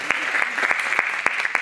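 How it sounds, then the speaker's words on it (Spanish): An audience at a creativity event applauds after a card magic trick, brisk dense clapping with a few sharp individual claps standing out, close and loud, with a voice briefly heard over it. "¡Aplausos gigantescos!"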